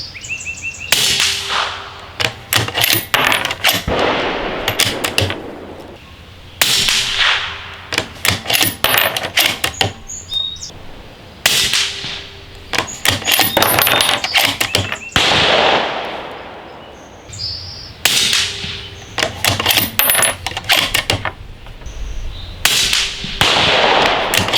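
A rifle fires subsonic ammunition in five-shot strings, each shot a sharp crack with a ringing metallic decay, spaced with pauses between groups and quieter intervals of handling.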